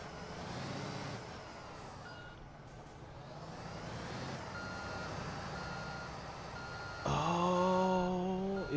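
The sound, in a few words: 6x4 dump truck reversing beeps in Construction Simulator 2 video game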